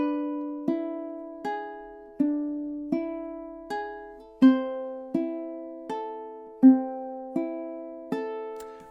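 Fingerstyle ukulele plays measure 12 of the Moonlight Sonata as a slow, even arpeggio of single plucked notes, each ringing and fading before the next. The sound is close and quiet, with no voices.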